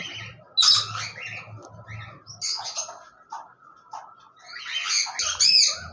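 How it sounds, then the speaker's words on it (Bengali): A pair of diamond doves in an aviary cage give soft coos and short chirping calls in scattered bursts, with a low murmuring pulse between them and no talk. "এখানে দেখতে পাচ্ছেন একজোড়া ডায়মন্ড ডাব ঘুঘু পাখি রয়েছে"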